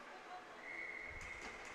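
A referee's whistle blows during a women's ball hockey game: one sustained, fairly clear blast lasting nearly a second over arena noise, with voices and thumps following.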